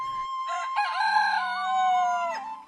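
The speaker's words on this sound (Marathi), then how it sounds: "सकाळी कोंबड्यांच्या आरवणीने जाग यावी" A rooster crows close by in a Konkan village in the morning, one long drawn-out call with a wavering tone, heard alone against a quiet background.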